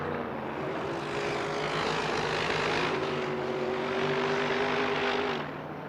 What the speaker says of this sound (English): Another turbocharged boat just going past.